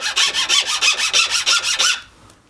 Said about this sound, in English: I have my file clamped into my vise, and I've just taken the plate and rotating it just a little bit which way it needs to go